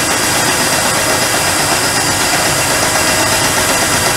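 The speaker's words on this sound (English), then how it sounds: "And let the dovetail cutter start here for you." A woodworking router fitted with a dovetail cutter bit runs with a loud, steady, close-up whine and hiss that holds constant throughout.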